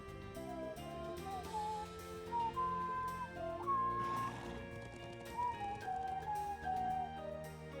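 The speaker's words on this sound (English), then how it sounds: "Hey, it's the horsey" A horse in the role-playing video game Trails of Cold Steel IV is heard alongside soft melodic background music, quiet and steady, with faint hoof and whinny-like game sounds blended in.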